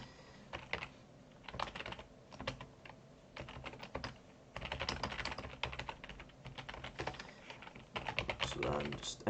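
Typing on a computer keyboard in a Linux terminal, an irregular run of close, crisp key clicks and taps with brief pauses between bursts, moderately quiet with no voice over it.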